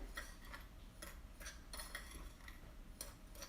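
Spoon clinks and scrapes against a bowl while cornstarch and cinnamon are mixed, a quiet irregular series of light ticks over a low background hum.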